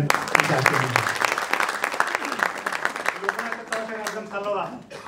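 An audience at a bank and Rotary lecture series breaks into brisk applause, with dense clapping that swells and fades while someone speaks over it.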